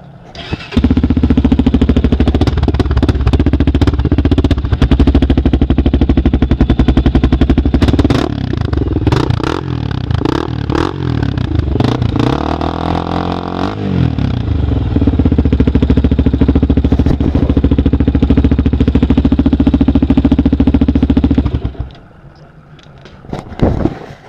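A 2003 Honda TRX 400 quad with a Lexx exhaust pipe and no spark arrestor starts and idles loudly, then revs hard in a rising and falling burst before settling back to a steady rumble and cutting off near the end.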